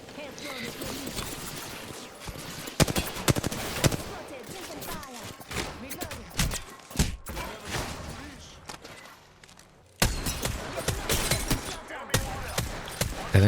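Rapid bursts of gunfire from several weapons during a squad fight in the Apex Legends video game, loud and close, with sharp volleys and sustained firing mixed with game effects and voices.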